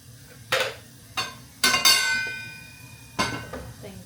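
Hot oil in a pot for tempering spices, with fenugreek seeds going in: a few short crackling bursts and one longer sizzle over a low background, with a faint ringing metallic tone near the end.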